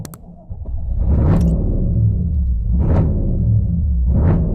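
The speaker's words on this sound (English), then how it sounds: "You should sit in the Corvette just to start the incredible engine." A 1962 Corvette C1 convertible engine catches and settles into a deep, loud, steady rumble close by, with a few throttle blips swelling above the idle.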